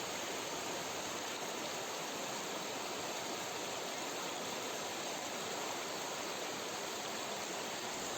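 Floodwater rushes fast across a village road in Girikanapalli after heavy rain, a steady, dense roar of flowing water that holds unbroken throughout, with no voices over it.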